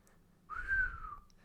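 A voice imitates wind whistling through a draft: a single soft, breathy whistle that rises and then falls away, lasting under a second, alone and fairly quiet.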